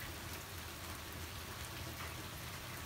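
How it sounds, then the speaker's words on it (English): Heavy rain pours steadily onto a street and open ground, a dense, continuous hiss of drops with no breaks, heard alone and fairly close. "It's a pretty decent rain."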